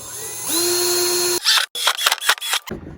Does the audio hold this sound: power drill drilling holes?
yes